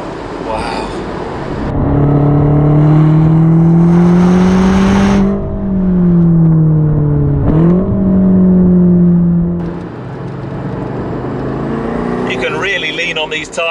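A BMW M8 Competition on Michelin Pilot Sport 4S tyres accelerates hard on a road. The loud engine note climbs in pitch, dips at a gear change, then climbs again before easing off, heard close from inside the car.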